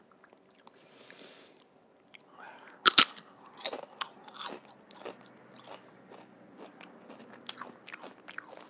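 A crunchy cheese chip bitten with a sharp snap, followed by a series of close, crisp chewing crunches in irregular rhythm, with no talk over them.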